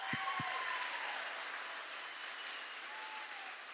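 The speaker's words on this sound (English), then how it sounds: "So can I get a round of applause for them," Audience at a Turning Point tour live event breaks into sustained applause, a dense steady wash of clapping throughout, loud and close, with no speech over it.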